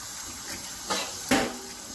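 Tap water runs into a kitchen sink while peeled potatoes are rinsed, a soft steady splashing with two brief louder gushes.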